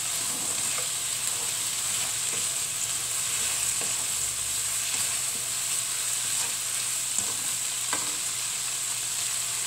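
Anchovies stir-fried with bean sprouts and petai give a steady, loud sizzle that runs throughout, with a few faint clicks of a utensil stirring the pan.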